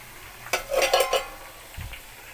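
Okra and green chillies frying in a pan while being stirred, a brief burst of scraping and sizzling followed by a soft clatter, close and fairly loud.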